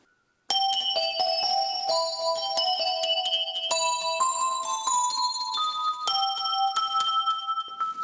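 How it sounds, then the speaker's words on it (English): Korg X5D synthesizer playing its Ice Bells patch: bright, shimmering bell-like tones in sustained chords that change every second or so, starting after a brief near-silent moment and ringing alone without voices. "a patch I really like is called Ice Bells."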